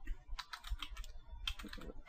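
Rapid keystrokes clatter on a computer keyboard as a command is entered in a terminal to generate a numeric password wordlist, quiet close clicks arriving in two quick bursts with a short pause between.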